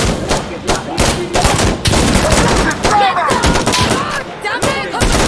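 Gunfire in the tactical shooter game Insurgency: Sandstorm, a dense, loud battle mix of rapid rifle bursts, automatic fire and thuds that carries on throughout, with shouting voices mixed in.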